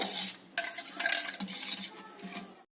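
Mung dal mixed with jaggery and water stirred in a pot, close swishing and scraping strokes in a few bursts, then stopping abruptly.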